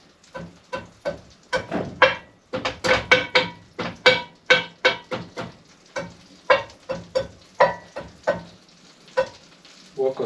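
A slippery jack mushroom cooks in butter in a hot frying pan. Close, loud scraping and sizzling strokes repeat in a quick, uneven rhythm, like stirring against the pan, with no talk.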